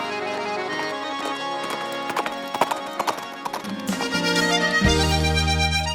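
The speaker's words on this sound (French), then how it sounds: "Les courses de chevaux sont parmi les compétitions les plus prisées." Hooves of horses in a horse race, a loud rhythmic clip-clop pounding over a bed of music, growing denser toward the end.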